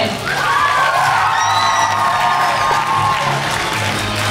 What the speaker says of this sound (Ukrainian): Зустрічайте бурхливими оплесками.